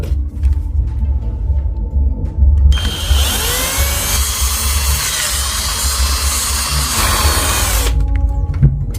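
A power drill whines loudly and steadily for several seconds as it drills through the center of a plastic bottle cap, its pitch shifting as it bites, between quieter stretches of low rumble and handling noise.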